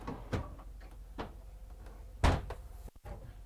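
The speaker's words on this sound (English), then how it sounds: "with two drawers that pop out down below" Two drawers sliding out beneath hanging storage in the bathroom of a Newmar Super Star 4051 motorhome, giving a few soft, quiet thuds and knocks spread over a few seconds, one knock noticeably sharper than the rest.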